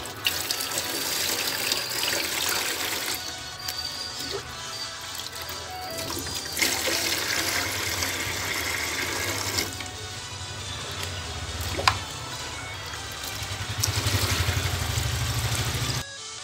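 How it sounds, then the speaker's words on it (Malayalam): Water pours steadily into a budget-built guppy fish tank, a continuous rushing splash that shifts in tone as the stream changes and carries on for over fifteen seconds with no talking. "ഇനി നമുക്ക് ഇതിലേക്ക് വെള്ളം ഒഴിച്ചു കൊടുക്കാം"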